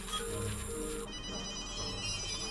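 A telephone bell rings in repeated trills, loud and close, over a steady hum with background music, no voices.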